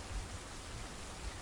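Steady rain falling on a bridge in a video game, a dense even hiss with a low rumbling undertone, continuous and fairly loud with no voices.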